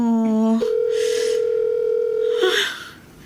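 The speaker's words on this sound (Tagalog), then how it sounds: "Ring lang din ng ring ang cellphone." Cellphone call tones: a steady held electronic beep-like tone after a short lower tone, with faint breathy sounds over it, ending abruptly.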